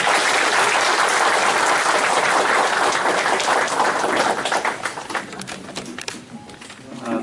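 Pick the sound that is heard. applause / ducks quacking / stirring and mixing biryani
applause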